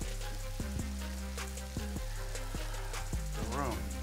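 Gold fingerling potatoes sizzle steadily as they brown in a hot pan for an Italian egg sandwich, a close, continuous frying hiss with light crackle and a few soft clicks throughout.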